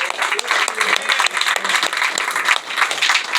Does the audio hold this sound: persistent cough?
no